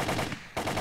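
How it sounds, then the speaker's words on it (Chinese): Rapid automatic gunfire in the video game Resident Evil 3 Remake, a short burst of repeated shots that breaks off briefly and resumes, heard at moderate level with no voices. "我不想开枪啊，他妈就开了20多枪"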